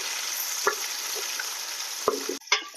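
Onions frying in oil for biryani, a steady close sizzle punctuated by a few sharp stirring clicks of a utensil against the pan.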